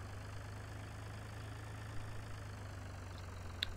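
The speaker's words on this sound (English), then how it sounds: "it's a good little utility tractor" A small, cheap utility tractor idles in Farming Simulator 2013, a steady low engine drone with an even rhythm and no talk.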